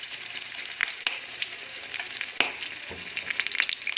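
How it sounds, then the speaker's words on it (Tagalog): Eggplant slices frying in hot oil, a steady close sizzle with frequent crackles and pops throughout. "So, lagay na natin ang talong natin ipiprito."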